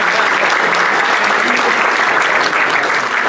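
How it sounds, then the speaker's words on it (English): Applause breaks out at a St. Patrick's Day dinner, a loud, dense crowd clapping that runs steadily from start to finish without a break. "Let's give them a big round of applause"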